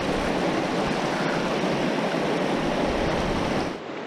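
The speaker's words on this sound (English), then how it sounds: "And this really fast water section too." Fast-flowing river water rushing in a broad, loud, steady wash, close by, continuous until it drops away abruptly near the end.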